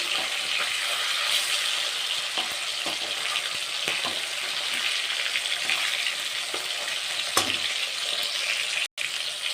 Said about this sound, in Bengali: তো মাছগুলো এখন উল্টে পাল্টে ভালো করে ভেজে নিতে হবে।